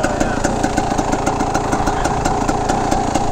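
A 1982 Yamaha YZ250 motorcycle engine runs close by with a loud, steady, fast-pulsing drone, holding an even pace for the whole stretch with no talking over it.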